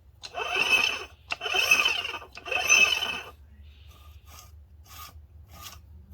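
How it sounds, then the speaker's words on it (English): Three loud rasping grinding bursts of about a second each from a 2006 Honda Odyssey transmission shaft rubbing against the differential, followed by fainter scattered metallic scrapes. "You're going to hear that grinding noise a little bit because the shaft is touching rub against the differential right here."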